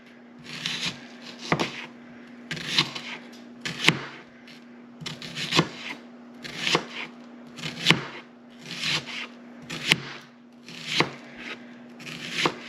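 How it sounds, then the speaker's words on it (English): Knife slicing through an onion on a cutting board: a steady series of about a dozen crisp cuts with soft scraping between them, close and clear, with no talk. "We're going to slice our onion really quick."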